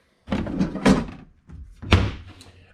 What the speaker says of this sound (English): There's a slide out trash can.